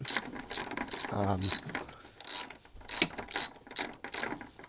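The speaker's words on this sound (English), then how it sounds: "just slipping this bolt off here" A ratchet wrench clicks in a quick burst while bolts are loosened and removed to lower a Mazda MX-3, with metallic handling and tool noise around it and no talking.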